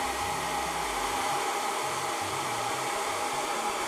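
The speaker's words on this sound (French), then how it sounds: "c'est parti pour le sèche-cheveux" A hair dryer blows steadily to dry makeup on a face, a constant close whooshing roar with a slight motor hum, unbroken and alone.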